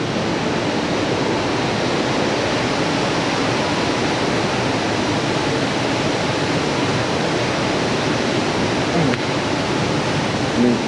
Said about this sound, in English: the fan for the dyno's on is very loud